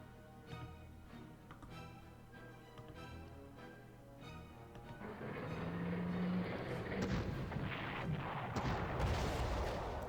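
Repeated gunfire and heavy artillery-like bangs aimed at a Crusader tank in the Panzer Corps strategy game, faint distant shots early that give way to a louder, dense rumble of fire, with no voices.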